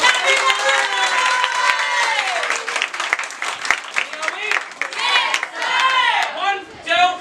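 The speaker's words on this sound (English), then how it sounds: "Clap, everyone." A crowd at a role-play event claps and cheers loudly and continuously while excited voices shout over the top, with the clapping coming in bursts that swell and fade.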